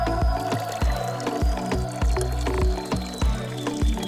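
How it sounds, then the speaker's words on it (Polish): Water pours steadily into a puppy's bowl with a gurgling, rising tone, punctuated by regular low knocks in the background. "Nalej wody do miski."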